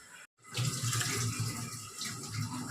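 Water streams steadily from a tap into a vessel holding tamarind set to soak in a home kitchen, a brief gap before the flow starts, then a continuous close splashing.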